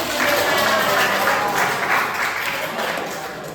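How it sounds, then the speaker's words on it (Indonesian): Students in a classroom lesson break into a short burst of steady applause, dense and close, fading slightly toward the end, with no talk over it. "Berikan tepuk tangan lagi."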